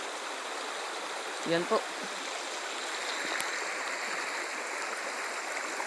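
A river stream flows steadily along a forest riverbank during a search for wild food, giving a continuous rushing, gurgling wash. Someone speaks briefly over the water near the start.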